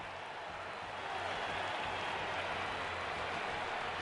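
A dense stadium crowd at a Monster Energy Supercross event roars and claps in a steady wash of cheering, holding at a moderate, continuous level throughout.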